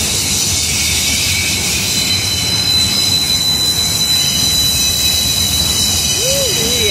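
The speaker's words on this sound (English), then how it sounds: "I just heard the train, as we always say, train!" A train rolls past close by, a loud continuous rumble of wheels on rails with high metallic squealing, and a brief rising-falling tone toward the end.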